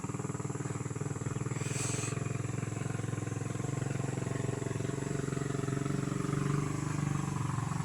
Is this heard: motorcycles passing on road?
yes